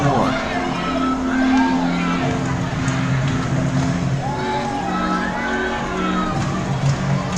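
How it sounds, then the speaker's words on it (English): A baseball crowd at an Elmira Pioneers versus Geneva Red Wings game chants "Let's go Pio's" in rhythmic, repeated calls, a broad roar of many voices filling the ballpark for the whole stretch. "Let's go Pio's chant. Valiant and in force from the crowd."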